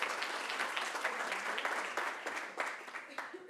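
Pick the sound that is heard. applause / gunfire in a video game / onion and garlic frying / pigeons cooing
applause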